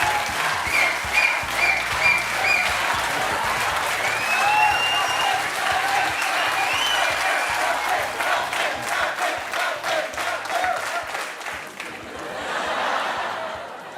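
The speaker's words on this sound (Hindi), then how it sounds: "तो ये तालियां बजती रहनी चाहिए" Loud audience applause on a Hindi television show set, sustained clapping with some cheering and laughter mixed in, fading down toward the end as the crowd settles.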